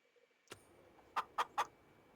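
Chickens and a rooster in the Farming Simulator 25 video game give three short, fairly loud clucks in quick succession after a single soft earlier peck-like note, with no talking over them.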